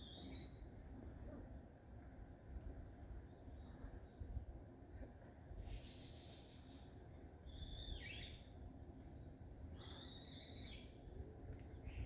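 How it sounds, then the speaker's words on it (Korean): A bull-headed shrike gives several harsh, descending calls in short bursts on an autumn hillside at the edge of Seoul, faint against steady low background noise. "자, 때까치 소리입니다."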